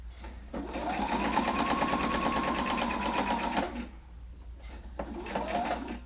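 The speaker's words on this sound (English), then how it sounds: "now we're going to sew these, and make sure that you do a reverse stitch" Sewing machine running a seam on a fabric microwave bowl cozy, a close, steady whirring stitch for about three seconds, a pause, then a shorter second burst.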